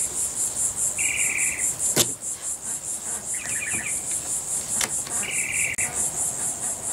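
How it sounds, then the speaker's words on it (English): A cricket chirps steadily and shrilly in a continuous pulsing trill, with a few brief bird-like chirps and clicks over a quiet outdoor background. "find that cricket or skate or grasshopper or whatever it is and step on it"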